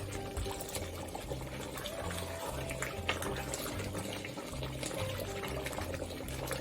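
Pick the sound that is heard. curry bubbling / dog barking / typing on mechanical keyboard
curry bubbling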